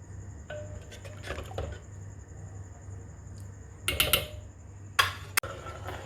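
A spoon stirs vermicelli (seviyan) simmering in milk in a pot over a low flame, with soft wet swishes, faint drips and a few sharp metallic clinks against the pan over a low steady hum.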